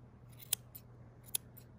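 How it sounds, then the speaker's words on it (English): Curved scissors trim the fur on a dog's foot during grooming, giving two crisp, close snips about a second apart over a quiet low background hum. "what I like to do first is with the curved scissors is just to take off"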